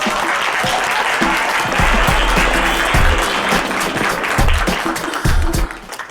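An audience at a poetry slam breaks into loud, sustained applause, a dense close wash of many hands clapping with a few cheers and brief voices mixed in.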